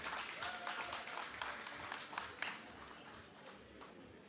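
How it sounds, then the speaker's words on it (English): Applause from an audience at an awards ceremony, Market Day with a Difference in Roseau, sustained broadband clapping at moderate distance with a faint tonal sound briefly over it. "give her a very big round of applause"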